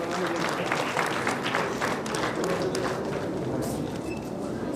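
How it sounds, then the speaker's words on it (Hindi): An indoor audience at a skill centre event gives a burst of hearty applause to welcome guests, dense steady clapping from many hands throughout. "जोरदार तालियों से एक बार स्वागत करते हैं।"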